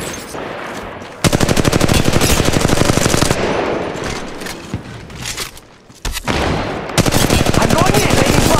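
Rapid automatic gunfire in the battle royale game Apex Legends Mobile, loud, dense bursts of shots that stop and start, with a short quiet gap before firing resumes.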